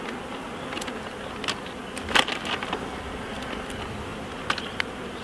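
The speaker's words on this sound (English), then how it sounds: "there's a bee here investigating me." Honeybees buzz around a beekeeper during queen rearing, with a faint steady hum and a few louder passes as individual bees fly close by.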